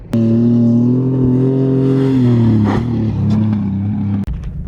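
A car with a suspected blown head gasket holds a loud, steady engine drone as it accelerates toward a jump. The pitch sags near the end, then a sharp thump cuts the sound off.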